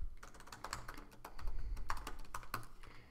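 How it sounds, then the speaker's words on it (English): Soft computer keyboard keystrokes while code is typed, a few irregular taps and clicks close by over faint room hum. "just make sure you type it in exactly as I have it"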